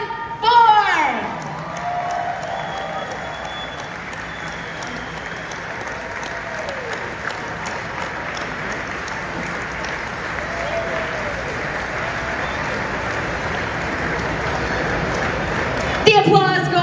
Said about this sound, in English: Let's put our hands together for our Premier, Doug Ford.